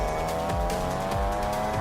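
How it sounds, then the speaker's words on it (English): A Honda Civic Type R with a 2-litre VTEC turbo engine drives hard, its steady engine tone holding throughout with a brief rising squeal of tires, close and loud with no talk. "Under the bonnet we've got a 2-litre VTEC turbo, 228 kilowatt engine"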